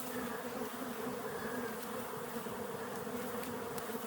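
Honeybees buzz steadily around an open beehive during a Colorado honey harvest, a dense continuous insect drone close by with no talking.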